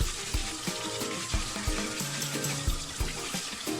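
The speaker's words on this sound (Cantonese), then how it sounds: "都係要揾水沖幾沖佢啦" Running water splashes steadily as dried Chinese soup herbs are rinsed under a tap, with occasional soft knocks and clinks close by.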